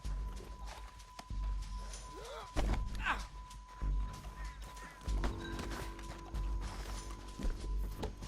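Horse hooves clop in uneven bursts of steps within Red Dead Redemption 2, fairly close but quiet, mixed with thuds and movement, while voices talk at times.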